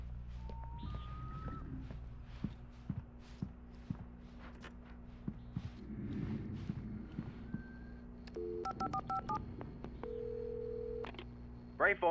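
Short electronic tone beeps of a gas station phone being dialed in Alan Wake Remastered, interspersed with footsteps and game ambience, then a steady held tone near the end.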